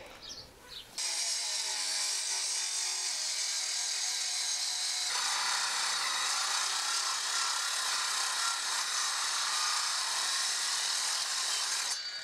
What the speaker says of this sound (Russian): Ну давай так тогда будем спиливать.